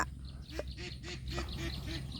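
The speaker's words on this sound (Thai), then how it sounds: "เป็ดเรียกกินข้าวแล้วพี่เดี๋ยว" Farmyard ducks quack repeatedly as they call for food, giving a string of short nasal honks in an uneven rhythm. The calls sound moderately near over a steady outdoor background hiss.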